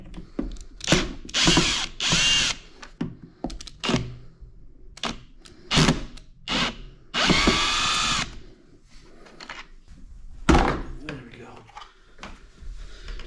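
A power drill backs screws out of the housing of a Bissell Big Green carpet cleaner, with several loud whirring bursts of varying length separated by pauses and handling noise, close up.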